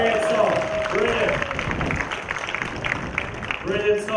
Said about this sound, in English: Big round of applause here for Dermot.